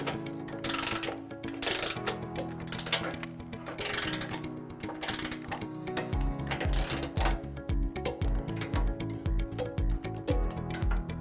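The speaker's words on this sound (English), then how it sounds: "Now we're going to tighten and torque all of our remaining nuts to the manufacturer specification" Steady ratcheting from a socket wrench on 15 mm flange nuts and a 17 mm coupling nut while a trailer hitch is tightened and torqued on a 2020 Tesla Model S, closely miked with regular clicking strokes and short gaps.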